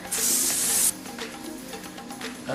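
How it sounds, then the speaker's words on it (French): A single short burst of silicone spray hisses onto latex for close to a second, then quiet handling noises follow. "Petite astuce beauté pour le latex, utilisez un spray pour silicone"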